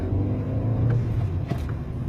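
A Volkswagen Jetta 1.2 TSI converted to run on LPG pulls away from a stop, its engine giving a steady low rumble close by that builds slightly, with brief faint higher noises mid-way and no talk.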